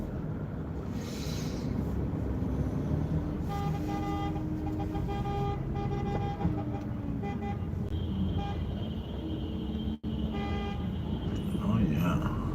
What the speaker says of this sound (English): They honking.